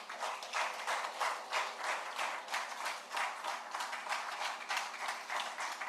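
An audience at a conference on ECOWAS at 50 claps in a steady, moderately loud round of applause that pulses unevenly and carries on throughout without a voice over it.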